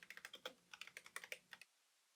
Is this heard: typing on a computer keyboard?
yes